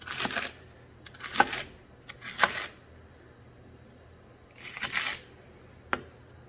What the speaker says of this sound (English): when I cut up celery, really any kind of a vegetable, I like to do the kind of the sideways, cut it kind of on the bias